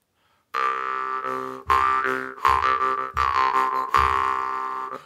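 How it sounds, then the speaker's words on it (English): A deep, twangy bass jaw harp in C plays a series of resonant plucked notes, its low drone shifting in tone with each stroke, close and alone. "Might even be considered a bass jaw harp."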